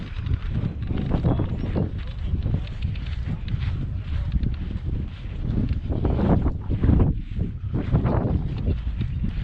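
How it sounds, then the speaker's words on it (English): Gusty wind buffets the microphone at a flying field for a radio-controlled Spitfire model plane, a steady loud low rumble that swells and eases in waves throughout, with no other clear sound. "Oh, you can hear that wind."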